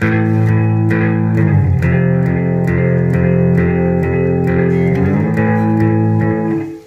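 A sustained, clean electric guitar playing chords with repeated strums, ringing and layered with a shimmering modulation effect, loud and close throughout.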